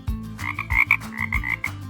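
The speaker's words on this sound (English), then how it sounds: "F is for frog." A frog croaks in a steady run of short, rhythmic calls, fairly close and clear, with no voices over it.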